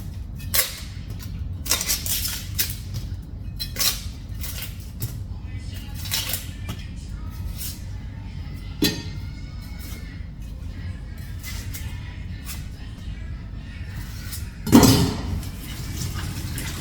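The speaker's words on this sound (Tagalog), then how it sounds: "maghiwa na tayo ng sibuyas at bawang" A knife chops onion and garlic on a board in a home kitchen, with sparse, irregular knocks and clicks over a low background hum.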